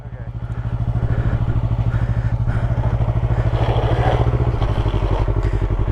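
A motorcycle engine runs steadily at low revs throughout a beginner's riding lesson, close and loud, with a dip in engine note near the end and light clatter.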